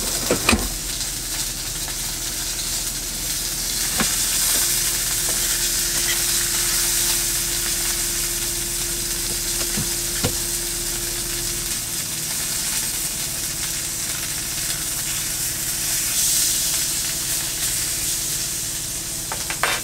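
Pork chops frying in hot oil in a pan, giving a loud, steady hiss and crackle throughout with a couple of faint utensil clicks, close by and with no voices.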